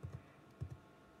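Typing a password on a computer keyboard: two quick pairs of soft, close key taps with a short pause between them.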